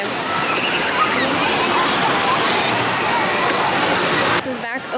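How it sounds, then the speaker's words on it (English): Waves rolling through a wave pool at an outdoor water park, a steady broadband wash of churning, sloshing water that stays loud and close throughout, with a brief dip near the end. "I think it's just making waves."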